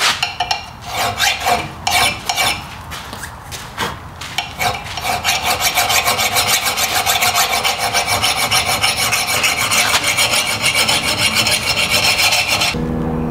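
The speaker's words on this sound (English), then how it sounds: "I'm gonna move to a smaller mill file, kind of clean this edge up, smooth it out just a little bit, get rid of this big giant burr on there" A mill file rasps along the edge of an old axe, with short separate strokes at first, then rapid continuous close, loud filing that stops abruptly near the end, with no talk.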